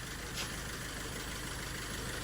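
A car engine idles steadily, a low, even hum running without a break and fairly faint, with no voices.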